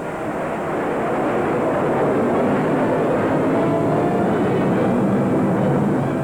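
Jet aircraft engines roar in old archival film footage, a dense continuous rumble that swells and then holds steady and loud throughout, with no talk.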